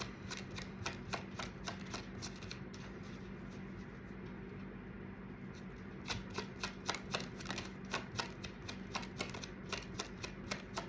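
Tarot cards being shuffled by hand, a quiet steady riffle of papery flicks and slaps repeating through the whole stretch with a brief lull midway.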